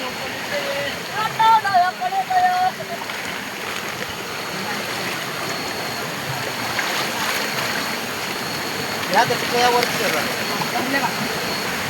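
Fast-flowing monsoon stream water rushes steadily, a broad continuous noise like a small torrent, with scattered splashes and brief chirpy tones riding on top.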